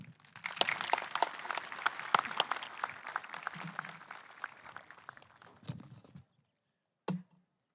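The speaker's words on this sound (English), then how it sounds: "Let's give him another round of applause." Applause at a high school graduation ceremony: fairly faint, scattered claps that taper off and stop, followed after a short silence by one lone clap.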